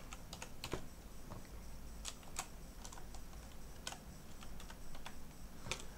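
Someone types a username on a computer keyboard in a run of light, irregular keystrokes, close and quiet, with faint background noise and no talk.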